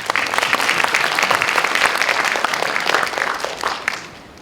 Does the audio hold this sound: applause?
yes